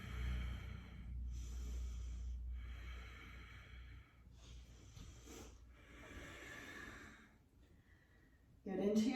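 Slow, deep breaths move in and out during a power yoga session, with long airy exhales and inhales following one another. Soft spoken guidance is heard alongside the breathing.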